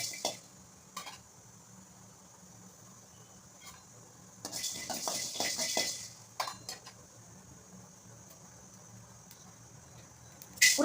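Coriander seeds dry-roast in a pan, stirred with a utensil: sparse clinks and taps over quiet stretches, then a louder rattling, scraping burst of stirring before it settles again, close and without talking.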